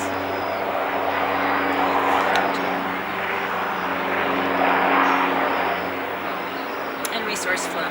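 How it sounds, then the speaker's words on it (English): A helicopter drones steadily in the distance, a low rumbling engine hum that holds throughout while a person talks over it. "and helicopter noises"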